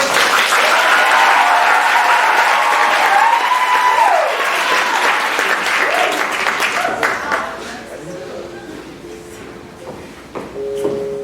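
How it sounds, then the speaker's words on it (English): A large theater audience applauds loudly for a youth performing players ensemble at a summer stage camp, the dense clapping gradually thinning and fading out with scattered claps near the end. "give a big round of applause to the players ensemble"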